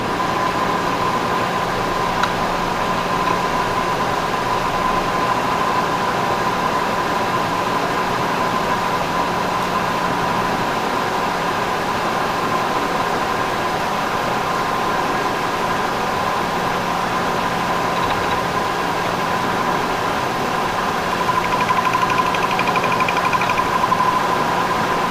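A steady engine idle held at about 720 RPM in a workshop, a constant even hum with a mid-pitched tone and faint vibration, unbroken for the whole stretch with no voices.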